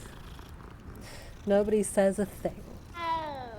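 Cat meows and purring from the video game Hogwarts Legacy, a few short harmonic meow-like calls bunched mid-clip and a longer sliding call near the end over a low steady hum.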